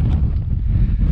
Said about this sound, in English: as you can hear, it is, the wind's picked up again.